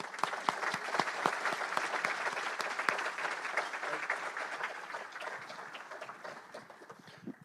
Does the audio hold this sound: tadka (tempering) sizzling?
no